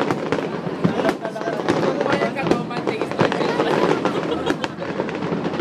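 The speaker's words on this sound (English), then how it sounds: "Kaya ba yung fireworks?" Fireworks at the Philippine International Pyromusical Competition burst in a dense, continuous barrage of sharp cracks and booms from a distance, while nearby spectators talk over the show.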